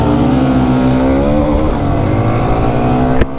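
Bajaj Pulsar 125 motorcycle accelerating hard in a drag race, its engine a loud, steady rising drone with dense harmonics climbing in pitch, close and continuous without speech.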